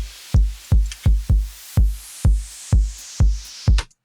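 A steady drum pattern: heavy booming hits land about every half second, each decaying quickly, with a soft hiss riding between them.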